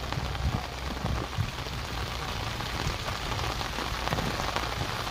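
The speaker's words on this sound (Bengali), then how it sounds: "খুবই বৃষ্টি, খুবই বৃষ্টি।" Heavy rain pours onto the Brahmaputra river, a dense, steady hiss of drops that stays loud and unbroken from start to finish with no voices.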